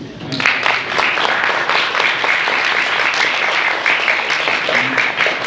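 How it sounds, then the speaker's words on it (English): An audience applauds Youri Djorkaeff, the former football player, at an event in Rwanda. Steady, fairly loud clapping starts after a brief pause and carries on throughout, with some voices mixed in. "let's clap for Youri"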